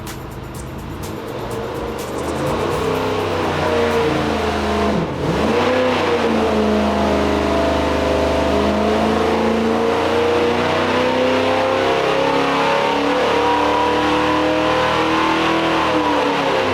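A 1971 Chevelle SS with a Chevy 350 V8 running on a dyno roars loudly and steadily, its pitch climbing as the engine is held under load, with a brief dip in revs early on.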